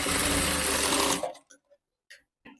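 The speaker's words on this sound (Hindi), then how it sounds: "तब इसको ये बाहर की तरफ फोल्ड कर दूंगी और यहीं पे एक सिलाई और लगा दूंगी" A sewing machine runs steadily, stitching a fold on a blouse, loud and close for just over a second before stopping, followed by a few faint clicks and handling sounds.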